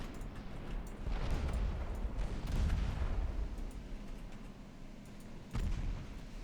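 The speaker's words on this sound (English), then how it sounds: "Heavies continue shooting." Heavy cruisers fire their naval guns in a warship battle game set in the dreadnought era. Deep, rumbling booms roll out continuously at a moderate distance, and a fresh blast lands near the end.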